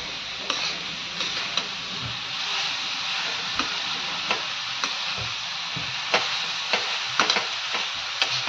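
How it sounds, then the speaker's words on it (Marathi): Jaggery filling for steamed ukdiche modak roasting in a pan while it is stirred, a steady close sizzling hiss broken by scattered scraping knocks from the spoon, with no talking. "सारण एकसारखं व्यवस्थित छान असं भाजून घ्यायचं आहे."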